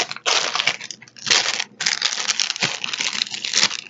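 A cosmetics subscription box's plastic packaging being peeled open by hand, bursts of close crinkling and tearing broken by brief pauses.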